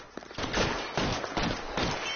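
Suppressive gunfire in the video game LA Nore, dense bursts of shots in a rapid rhythm, close and fairly loud with brief gaps between volleys.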